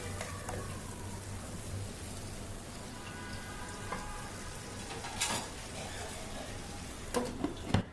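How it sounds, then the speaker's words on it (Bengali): Pieces of green banana sauté with spices in a pan, giving a soft, steady sizzle with occasional louder scrapes and clinks of stirring near the end. "তো আমি এখন সব কিছু মশলার সাথে একটু কষিয়ে নিচ্ছি। কলাগুলোও দিয়ে দিলাম।"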